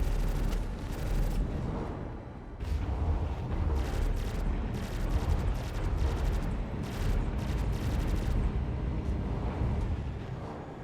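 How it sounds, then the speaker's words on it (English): Enemy gunfire in the space game Star Citizen, with dense, rapid bursts of shots and booming impacts that roll on almost without pause. "They shooting at us now."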